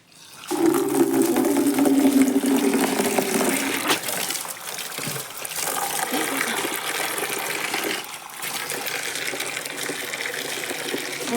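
Water gushes steadily from a tap on a farm, a close continuous rush that runs throughout, with a strong tonal hum early on and faint talk beneath.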